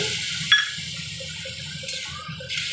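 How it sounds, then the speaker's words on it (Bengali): A little water is poured into a cooking pan of frying vegetables, a short splash and hiss followed by a steady close bubbling and sizzle as it settles. "এখন এটার মধ্যে দিয়ে দিব হালকা একটু জল।"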